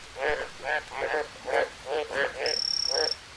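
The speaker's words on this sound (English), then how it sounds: "Those are some noisy frogs." Noisy frogs croak in a jungle scene from the video game Green Hell, a series of rhythmic close croaks in quick pulses, with a brief higher tone near the end.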